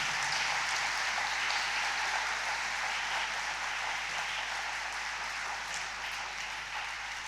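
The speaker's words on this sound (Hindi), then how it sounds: "आए खुदा का उसके कलाम के लिए अपनी जिंदगियों में जोरदार तालियों में शुक्रिया अदा करें।" Church congregation at Sunday Mass applauding, a steady wash of many hands clapping at a distance, moderately faint and continuous.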